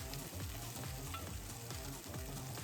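Green pepper, curry roux, curry powder and sauces sizzle and fry in a pan for dry curry, a steady close crackling hiss with rhythmic stirring scrapes throughout.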